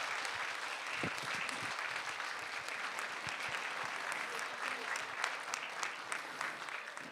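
A church congregation applauds at a discipleship training graduation, a steady, dense wash of many hands clapping that carries evenly for several seconds with no talk over it.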